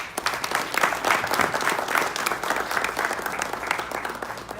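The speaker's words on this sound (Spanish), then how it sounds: "pida un fuerte aplauso" A crowd at a book launch on political negotiation applauds steadily with dense, even clapping that holds at moderate loudness throughout, with no voices rising above it.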